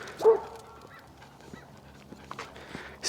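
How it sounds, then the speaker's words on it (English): A dog barks once, sharp and moderately near, then faint footsteps and soft outdoor sounds follow on a walk. "Dog barking up there."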